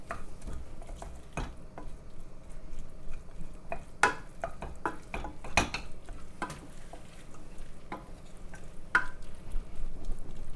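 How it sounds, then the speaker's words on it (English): Beef mince browning in a pan while a wooden spoon breaks it up, with a soft background sizzle and scattered sharp knocks and scrapes of the spoon against the pan, fairly quiet and close. "All the time using your wooden spoon just to combine and break up that mince."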